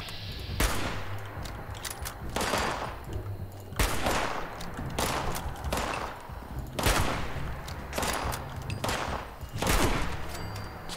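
Enemy gunfire in the video game Fallout 76, repeated loud bursts of shots arriving every second or so across the stretch, with no speech over them.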